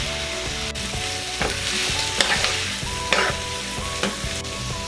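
Chopped beef meat and beef heart sautéing in a hot pan, a continuous loud sizzle broken by repeated stirring scrapes and clacks of a utensil against the pan, with no voices.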